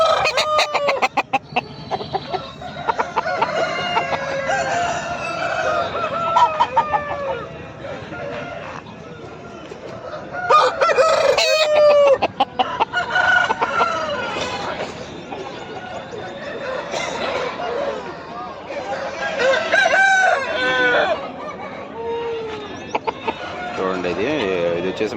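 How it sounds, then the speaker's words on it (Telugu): Several roosters crow repeatedly, some near and some farther off, amid clucking hens and a busy crowd murmuring at a large weekly market in Pileru. "భారీ పుంజులు కూడా వచ్చాయి"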